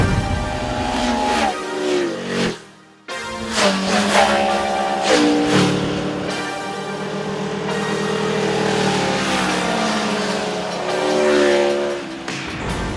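An Aprilia RSV4 motorcycle's V4 engine revs hard and steadily, the loud roar rising and falling through gear changes with one brief dip, heard close and alone.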